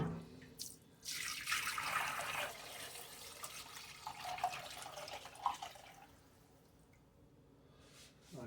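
Turkey juice poured through a screen door strainer, a splashing liquid rush that surges early, then trickles and drips more faintly before fading, with no speech.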